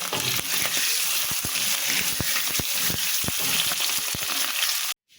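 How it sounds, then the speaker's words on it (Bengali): Cumin seeds sizzling in hot oil, a loud continuous crackling sizzle with frequent sharp pops, cutting off abruptly at the end. "তা আমি জিরেটা দিয়ে তেলের উপর দিলাম।"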